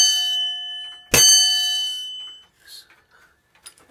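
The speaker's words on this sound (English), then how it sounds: "this is an English Bell tall case clock, and this is why they call it an English Bell, because it sounds like this." A single loud bell strike from an English bell tall case clock rings out and decays slowly over a couple of seconds, with faint handling noises afterward.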